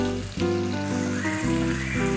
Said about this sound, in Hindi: तो इसे अब हम 3 से 4 मिनट तक भून लेंगे